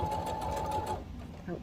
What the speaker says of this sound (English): now you're going to continue to sew while moving your top piece away from your sewing machine